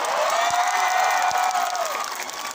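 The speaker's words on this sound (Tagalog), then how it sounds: "Meron pa bang natitirang palakpak para sa amin?" A large crowd at an outdoor presidential campaign rally in Cavite claps and cheers in a dense, continuous wash, with a sustained tonal hum running through it and two dull thumps.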